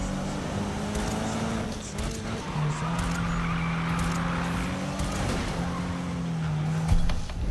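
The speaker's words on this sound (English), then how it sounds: "Can't even get a good drift on that one." In the Need for Speed racing game, a drifting car holds a long, wavering tire squeal over a steady engine drone for several seconds, loud and close.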